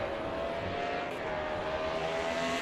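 CASSCAR Roadmaster stock cars in a racing video game thunder down the straight at the Montreal circuit, a sustained loud engine roar holding steady with no talking.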